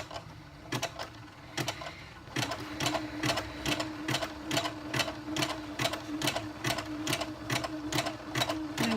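Sewing machine stitching slippery fabric at a steady moderate pace, a rapid even run of close mechanical needle clicks that pauses briefly near the start and then continues loud and regular.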